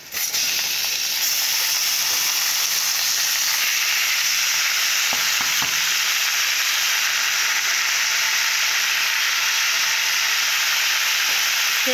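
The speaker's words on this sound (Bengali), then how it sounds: "পেঁয়াজটা হালকা করে ভেজে নিয়েছি" Sliced onion frying lightly in a pan gives a steady, dense hiss and sizzle that holds unbroken for the whole stretch, with a few faint clinks partway through and no talking.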